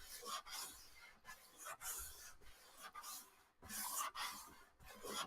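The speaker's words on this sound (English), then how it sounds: "It's just sanding and sanding." Repeated sanding strokes on the fretboard of a vintage classical guitar being given a radius, soft rhythmic rasping in bursts about every second, close and fairly quiet with no talking.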